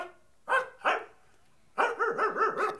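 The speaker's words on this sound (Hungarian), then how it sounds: "úgy látszik, Viola kutyának is van valami mondani valója" A dog barks twice with a short gap, then lets out a quick run of yaps in a row, loud and close, with no talking.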